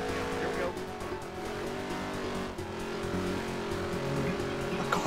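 Stock car engine in NASCAR Heat 3 during a Dirt Track Series career race. A steady, buzzing engine drone holds throughout with slight pitch wavers and faint tyre squeal, while a voice talks over it.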